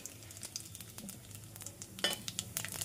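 Whole garam masala sizzling in hot oil, bay leaf, star anise, cardamom, nutmeg, mace and white pepper, a faint steady crackle with scattered pops and a brief louder spatter, no voices.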